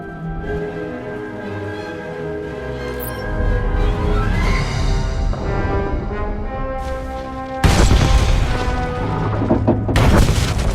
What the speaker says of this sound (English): The charges have detonated.